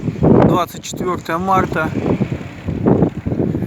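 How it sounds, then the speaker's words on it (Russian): Outdoor wind buffeting a microphone beside solar panels, low rumbling gusts that surge and fade under a person talking. "Ветер дует"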